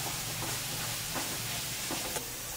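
Masala for mutton curry roasts in oil, making a soft, even hiss of frying with a few faint stirring scrapes, steady and low throughout.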